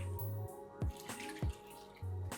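Water pours into a pot of rice for curry leaves pulao with garam masala and salt, giving splashy, trickling bursts and a few sharp drips over a steady low hum.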